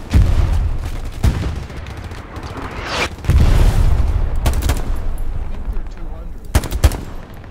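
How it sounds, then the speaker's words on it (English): Hell Let Loose battle with a heavy grenade blast and rolling rifle and machine-gun fire, loud booms near the start and middle, bursts of shots continuing across the scene. "Ooh, he dropped a grenade."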